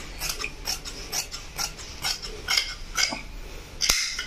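Scissors snipping through heavy saree petticoat cloth, a run of quick, crisp cuts close by in a steady rhythm, ending in a sharper snap, with no talking.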